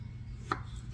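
A single crisp knife chop lands on a wooden cutting board while new potatoes are quartered, one short quiet knock over a low background hum.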